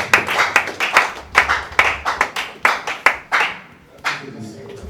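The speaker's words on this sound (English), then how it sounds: "Please clap for Akosia." A small audience at a book launch in Ghana claps in a burst of distinct, irregular hand claps that thin out toward the end, fairly close, with a few faint voices underneath.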